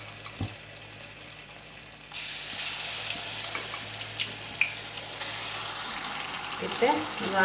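Mushrooms fry in oil in a pan, giving a steady hiss and sizzle that swells louder partway through and then holds, with a few faint clinks and no talking.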